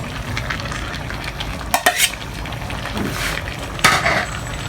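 Pechay and potatoes stirred in a pan while frying for ginisang chicken fillet with vegetables, a steady sizzle with a utensil scraping and clacking against the pan in two sharp bursts, close and fairly loud.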